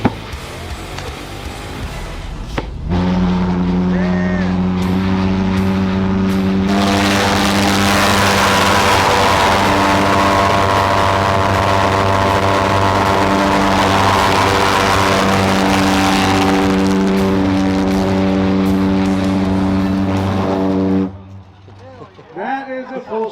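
Street drag race cars at a 120 ft street racing benefit event roar in a long, loud, sustained engine drone that rises sharply, holds for about eighteen seconds, then cuts off abruptly.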